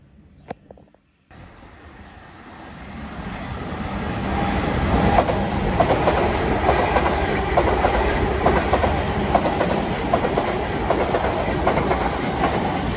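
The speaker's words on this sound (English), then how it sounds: "the train from Christchurch or Bournemouth up to London Waterloo" Train running from Christchurch toward London Waterloo, heard from inside: after a short quiet start the rumble builds into a steady clickety-clack of wheels on rails with constant cabin noise.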